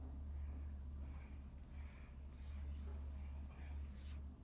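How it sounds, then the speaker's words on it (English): A stylus scratches across the surface of an iFLYTEK AINote 2 e-ink tablet, several short, faint papery strokes in quick succession over a low steady hum. "Now, if I want to write here, I'm in HD mode, there's no delay."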